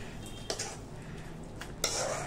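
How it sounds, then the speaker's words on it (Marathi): Soft scraping and clinking of a spoon against a pot as roasted aubergine mash (bharit) is transferred into a serving bowl, a few brief metallic scrapes, quiet and close. "हे भरीत आता मस्तपैकी एका बाउल मध्ये काढून घेऊया आपण"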